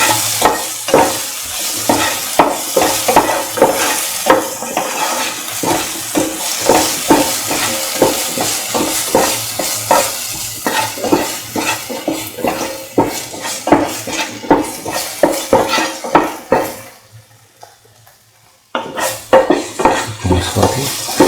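Green chili sauce sautéing in a pan for plantain lemon rice, a steady sizzle cut by frequent rhythmic scrapes and clinks of a spatula against the pan, with a brief quiet gap near the end before the stirring resumes.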